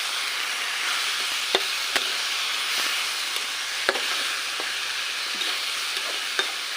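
Taro leaf curry fries in a wok with a constant hissing sizzle, broken by sharp scraping clicks from a spatula stirring at irregular intervals, close up with no voices.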